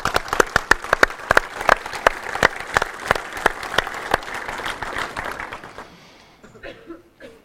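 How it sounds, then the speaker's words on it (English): Applause from a modest conference audience at a developer event in Zürich, sharp individual claps close by over a softer crowd, thinning out and fading to quiet near the end. "I really would like that you can thank them all with a big applause"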